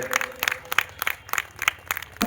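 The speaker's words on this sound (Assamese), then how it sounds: "এটি হাত চাপৰি আপোনালোকে যদি আমাৰ মিলনজ্যোতিক আদৰে" Audience at the Dibrugarh Book Fair clapping to welcome a newly launched book, a sparse irregular burst of individual hand claps with several distinct loud claps spread across the moment, fairly close.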